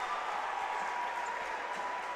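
Crowd applause at a college men's basketball game after a three-pointer off the bench, a steady broadband wash of clapping and cheering at moderate level, fairly distant, with no clear talk.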